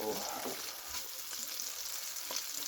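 Smoked bacon sizzles and crackles steadily in a cast iron pan as its fat renders out, a continuous close hiss dotted with brief pops and no talking.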